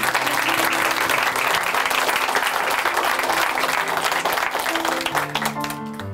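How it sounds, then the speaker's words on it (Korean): A church congregation in Chuncheon claps in dense, sustained applause that fills the room, then tapers off near the end as soft organ-like music rises beneath it. "김수정 자매님께 다시 한번 큰 박수 부탁드립니다."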